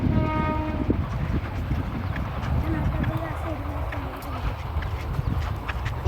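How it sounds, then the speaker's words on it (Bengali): A train passes on a railway line beside a rural road, a loud continuous rumble with rattling wheel clatter and a short horn-like tone at the start, while someone talks over it. "ট্রেন যাচ্ছে, ট্রেন"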